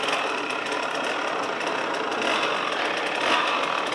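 A vehicle engine labouring on a steep, difficult off-road trail, giving a dense, steady, close drone that holds without clear pauses.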